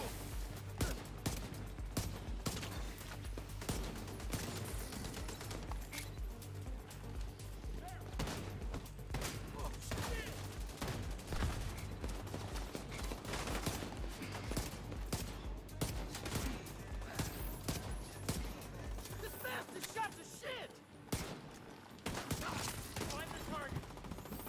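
Rapid bursts of gunfire from The Division 2 crackle throughout, dense and continuous over a low game hum, with talk mixed in beneath the shots.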